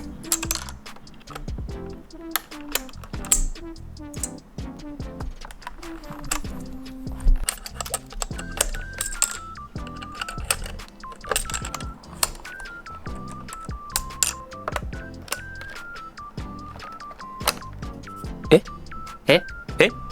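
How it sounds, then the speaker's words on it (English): Plastic keycaps are pried off a mechanical keyboard one after another, giving a sharp, irregular run of close clicks and clacks, with a thin squeaky tone in between. "I took off all the keycaps"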